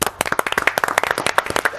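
Audience hands clap in a quick, uneven burst of loud, close, sharp individual claps with no voices over them.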